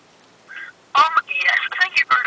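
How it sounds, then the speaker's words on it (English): A telephone on speakerphone places a call, with a short electronic tone, then a voice comes through the line. "call it and put it on speakerphone"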